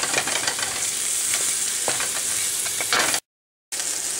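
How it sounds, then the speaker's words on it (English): Onion and garlic sauté in a pan with browned cumin seeds, a loud, close sizzle punctuated by scraping stirs, then a sudden half-second gap of silence before the frying resumes; no voices. "add onion and garlic. And saute this."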